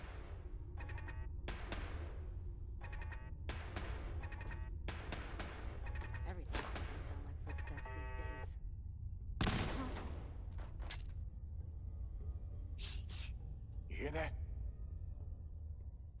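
Fallout 4 combat against raiders: a run of sharp gunshots and bursts of automatic fire, then a heavy grenade blast and a few scattered shots against a low ambient rumble.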